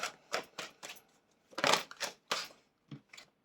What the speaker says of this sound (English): In the time that I'm shuffling them